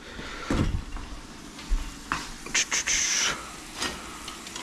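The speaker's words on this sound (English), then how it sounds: "If anything's sticking, can always just deglaze. We'll use some red wine right now." Picadillo pan deglazed with red wine, giving a sizzle with scraping, stirring strokes of a utensil against the pan, several short bursts close up and moderately loud.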